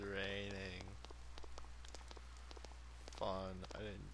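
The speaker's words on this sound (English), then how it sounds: "It's raining." Soft steady rain patters throughout in the video game Persona 4, with a voice speaking over it at the start and again near the end.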